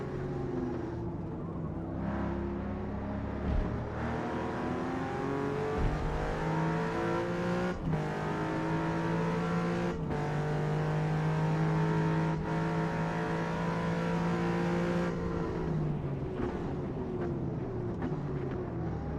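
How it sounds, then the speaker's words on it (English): A T50 supercar engine in a racing video game, a continuous loud engine drone that rises and drops through several gear changes, with other cars audible in the mix and no talking. "Sounds like a T50 in front."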